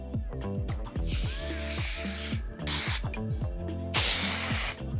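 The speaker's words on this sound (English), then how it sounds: "So I'm going to start spraying the texture spray" Bursts of hissing texture spray applied to hair over steady background music, the aerosol sound rising and pausing a few times.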